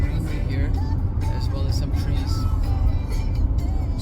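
Car cruising on a US highway during a cross-country road trip, a loud steady road and engine roar inside the cabin, with people talking over it.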